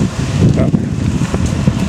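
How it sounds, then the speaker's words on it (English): Steady low rumble of wind buffeting the microphone on the Raccoon River Valley Trail, loud and constant throughout with no clear breaks. "It's kind of windy at this point in the trip."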